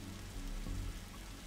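Steady rain falls in the video game The Darkside Detective, a soft, even wash of patter with no voices over it.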